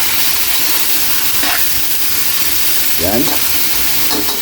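Chicken sizzles loudly in a hot pan for chicken binakol, a steady frying hiss with a few brief scraping stirs of a utensil over it.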